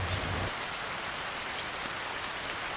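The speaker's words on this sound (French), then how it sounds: "Première mauvaise expérience météorologique, car on a la pluie." Rain falls on Réunion island, a steady close hiss of drops hitting surfaces, alone and even throughout, with a brief low rumble at the very start.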